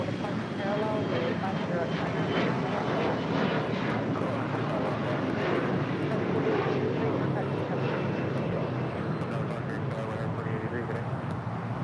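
A Boeing 787 Dreamliner departs from LAX, its jet engines producing a steady, loud roar that holds for the whole span, with a voice talking intermittently underneath.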